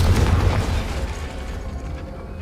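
In Hogwarts Legacy, the Confringo spell lands as a deep, rumbling explosion that booms loudly at first and then fades into a sustained low roar.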